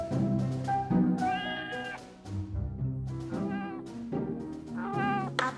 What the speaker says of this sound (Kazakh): сыныпта мысықтың дауысы естілді, мияулап жатыр